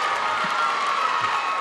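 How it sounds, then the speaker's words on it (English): A high school volleyball crowd cheers and shouts in a continuous, dense roar that fills the gym without a break. "The crowd is going crazy."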